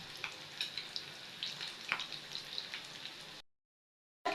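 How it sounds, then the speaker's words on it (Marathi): Chicken lollipops frying in hot oil over a low to medium flame, a steady crackling sizzle with small pops, close by, before cutting to silence and a brief return. "ह्याला आता आपण लो टू मीडियम फ्लेमवर छान तळून घेऊया।"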